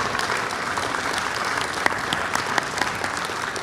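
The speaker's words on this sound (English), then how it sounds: "Let's give one more big round of applause for all the 4 award winners." A large audience at a world culture festival applauds award winners with dense, continuous clapping, a steady wash of hands at moderate distance with no talking over it.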